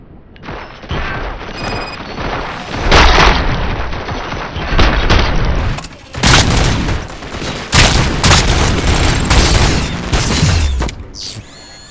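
Bursts of gunfire and booming blasts from the RoboCop: Rogue City video game come in loud, overlapping volleys, with a few short breaks between salvos.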